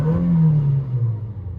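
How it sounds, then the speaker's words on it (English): A Toyota Tacoma pickup truck engine with a 6-speed transmission revving briefly, a close droning tone that sags in pitch as the revs fall away. "this engine makes noise"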